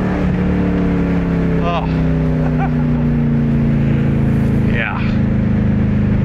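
A cheap turbocharged sports car pulls hard under acceleration, its engine drone rising steadily as the boost builds, loud and close, with a brief voice exclamation over it.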